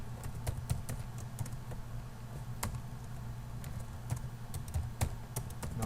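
Quiet, irregular clicking of a computer keyboard as someone types code, keystrokes coming in uneven bursts over a low background hum.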